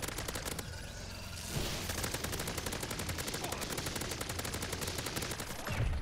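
A weapon in the Call of Duty MW3 Zombies video game fires in a loud, sustained rapid stream of shots, a continuous automatic rattle lasting several seconds with a brief lull near the start.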